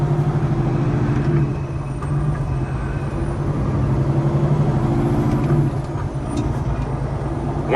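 A stretched Peterbilt 389 truck drives down the road on its first run after a long repair job, its engine a loud, steady low drone with road rumble and a few brief hisses and clanks.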